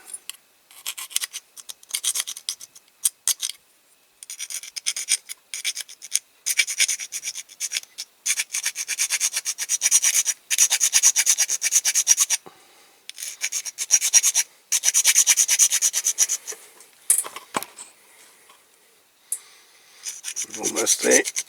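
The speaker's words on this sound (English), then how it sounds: "Now I'm just going to file the tops off this rivet post on the back of the cart." A metal file rasps in quick, rhythmic back-and-forth bursts as it takes the tops off a rivet post on a Dinky Toys Cunningham C-5R model car, with short pauses between bouts and a faint handling knock near the end.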